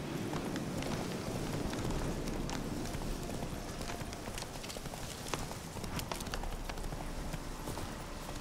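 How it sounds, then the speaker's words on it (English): A horse galloping in The Witcher 3 video game on PC, with a steady run of hoofbeats under game ambience and music, fairly loud and continuous, with no one talking. "Run, Roach"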